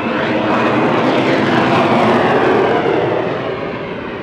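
A helicopter flies overhead at a super late model stock car race at a Las Vegas bullring, giving a loud, steady, broadband roar that holds for several seconds and fades slightly at the end.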